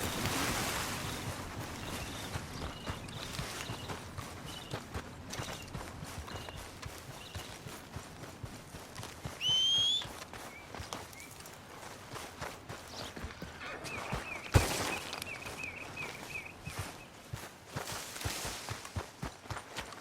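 Horse hooves clip-clopping at a steady riding pace in Red Dead Redemption 2, a continuous rhythmic patter over a wash of ambient wind and water, with a brief bird-like chirp midway.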